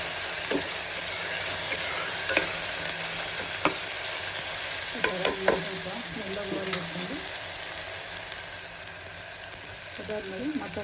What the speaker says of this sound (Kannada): ಈ ಥರ ಈರುಳ್ಳಿ ಎಲ್ಲ ಚೆನ್ನಾಗಿ ಮಗ್ಗಿ ಗೋಲ್ಡನ್ ಕಲರ್ ಬರಬೇಕು